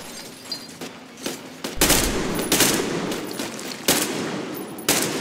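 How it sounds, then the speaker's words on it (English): Gunfire in Metro Exodus: a few loud, close bursts separated by quieter stretches, each a sharp crack that trails into a rattling tail. "I just shot him in the head"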